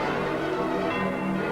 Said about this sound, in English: the Vatican bells of St. Peter's ring in peace